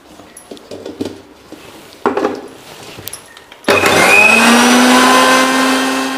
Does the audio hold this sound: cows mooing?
no